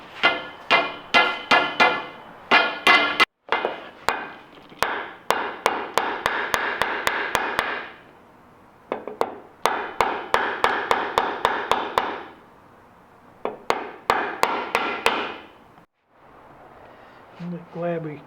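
Hammer blows strike steel on an MG Midget during restoration, rapid bursts of sharp, ringing metallic hits with short pauses between them, loud and close, with people talking at times in between.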